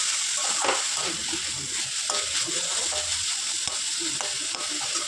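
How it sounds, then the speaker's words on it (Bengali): Chicken mince with onions fries in a pan with a constant close sizzle, broken by scraping and clinking from a spoon stirring the pan, and no one speaks. "চিকেন কিমাগুলোকে আমি দিয়ে আরও বেশ কিছুক্ষণ ধরে নাড়াচাড়া করতে থাকবো।"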